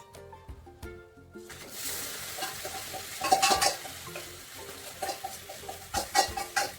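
Mutton pieces going into fried onions in a pressure cooker and being stirred, a rising sizzle with uneven scraping and clattering strokes of a spoon against the metal, growing louder and busier toward the end.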